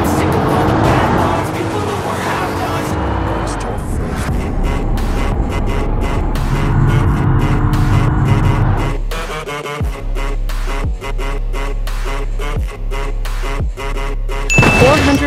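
A BMW M8 4x4 in BeamNG Drive revs hard and drives with a loud, continuous engine roar and some tire noise. It breaks into a sharper, choppier passage of repeated thumps and bumps partway through.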